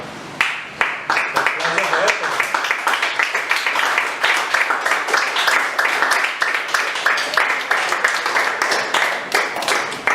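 Church congregation clapping for the Lord during a Spanish-language sermon, rhythmic and fairly steady for ten seconds, with some voices mixed in.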